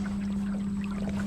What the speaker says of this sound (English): We got this old tiller motor getting after it.